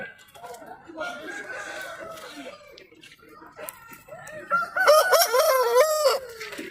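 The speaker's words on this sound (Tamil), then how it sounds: "இப்போ பட்டா கொண்டையில் ஒரு அருமையான சேவல் இருக்குது" A Patta Kondai rooster, a rare breed, crows loudly in a long rising and falling call near the end, with other fowl clucking and people talking beforehand at a poultry market in Tiruppur.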